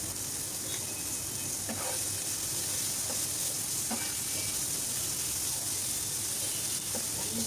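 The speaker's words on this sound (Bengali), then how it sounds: "এই তো মশলাটা কষানো হয়ে গেছে।" Spices (masala) frying in a pan, giving a steady soft sizzle and hiss throughout, with occasional light clicks of a spoon stirring, close and fairly quiet, no talking.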